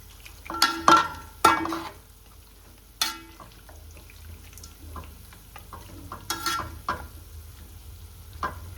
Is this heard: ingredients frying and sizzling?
yes